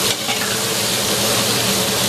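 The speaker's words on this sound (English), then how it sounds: "we're going to add 6 diced onions, stir it in, give it a few minutes with the meat" Diced onions stirred into browning meat for Irish chili, a loud, continuous close sizzle with faint stirring scrapes and no voices.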